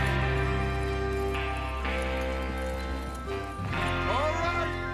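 Hoofbeats of horses on the move in the Western game Red Dead Redemption 2, a steady clip-clop carrying under a voice and game music, with a brief horse whinny near the end.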